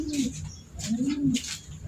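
A pigeon coos nearby, three low, throaty rolling calls in a steady rhythm, with faint background hiss.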